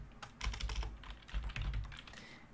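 Keys clatter on a computer keyboard as shell commands are entered, a quick quiet burst of close, irregular taps with short pauses between.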